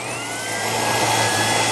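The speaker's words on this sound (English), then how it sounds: "So it is a nice vacuum." An ECOVACS DEEBOT T30S Combo robot vacuum and mop runs with a steady, loud, close whooshing roar and a thin motor whine, swelling slightly as it keeps going, with no talking.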